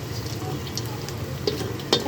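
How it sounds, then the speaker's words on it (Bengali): Onions frying in a pan give a steady, close sizzle with soft stirring and two brief metallic clinks near the end. "এই যে পেঁয়াজটা ভাজা হচ্ছে"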